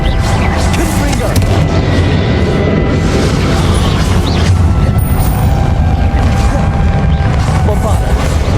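Continuous explosive blasts from spells cast in a boss battle against Ranrok in the video game Hogwarts Legacy, a dense, loud barrage of booms and crashes with game voices mixed in throughout.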